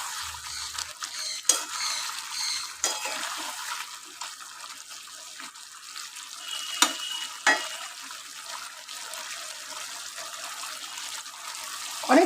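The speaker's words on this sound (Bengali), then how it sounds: "এবার জাস্ট একটু জল দিয়ে আমি এটাকে ঢাকা দিয়ে দেবো।" A pot of nearly cooked chicken curry hisses faintly as it simmers, with soft scraping, stirring and occasional light clinks of utensils against the pot, no talking.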